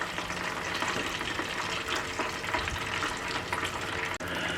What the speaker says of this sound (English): there was one little tender that decided to be a straggler and wanted to fry by itself, which is in the grease now